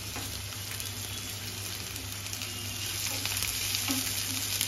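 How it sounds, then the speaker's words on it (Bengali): Chopped onion fries in a pan, a steady close sizzle and crackle with stirring scrapes, growing slightly louder toward the end. "পেঁয়াজটা ভাজা হয়ে গেছে।"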